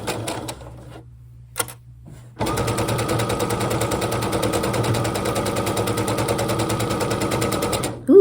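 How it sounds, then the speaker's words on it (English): A sewing machine stitches fabric along a drawn quilting line, starting after a short pause and running as a loud, fast, steady mechanical rattle for about six seconds before stopping. "we're just going to stitch on the line"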